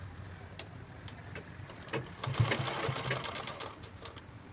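A sewing machine stitches a strip onto a peplum top in short quiet bursts, its rapid needle chatter starting and stopping and growing louder midway, close by in a quiet room.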